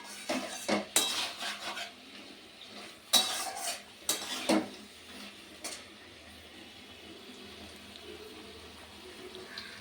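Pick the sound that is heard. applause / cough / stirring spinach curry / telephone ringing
stirring spinach curry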